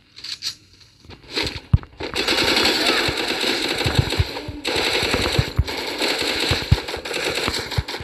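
Gunfire in the mobile shooter game Free Fire, with rapid automatic bursts rattling almost continuously after a few scattered opening shots, loud and close, with a voice briefly audible.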